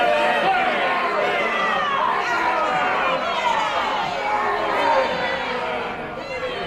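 Hostile crowd murmuring in a courtroom, staged as an audio play effect: a continuous, fairly close babble of many overlapping voices, steady in level and fading slightly toward the end.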